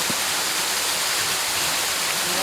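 A winter waterfall at a Japanese nature farm pours down in a dense, steady rushing roar, loud and close, with no voices over it.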